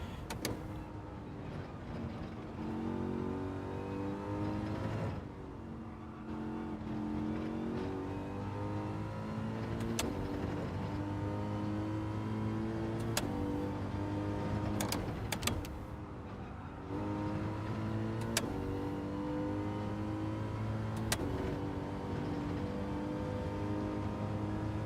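Race car engine in Gran Turismo 7 drones steadily with shifting harmonic pitch as the car runs a lap, punctuated by sharp gear-change blips and brief dips, loud and continuous with no talk.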